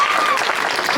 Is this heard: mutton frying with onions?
no